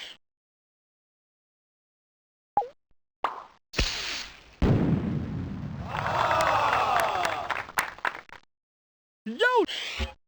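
Cartoon fireworks from the 1996 educational game Mighty Math Number Heroes pop and burst, followed by a long crackling, cheering rumble and a few rising whistles, with brief pauses of silence between the bursts.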